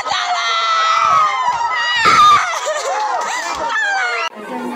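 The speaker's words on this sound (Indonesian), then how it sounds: "beberapa penumpang berteriak histeris meminta tolong agar membantu menyelamatkan para penumpang" Passengers aboard the ship KM Lambelu, anchored off Maumere, scream hysterically for help, a dense chorus of shrill, overlapping cries and shouts that stays loud and close throughout, with a brief drop near the end.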